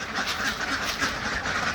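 Ducks quack in a dense, continuous flock while being fed homemade beetle larvae, the calls close and overlapping for a brief moment with no talk.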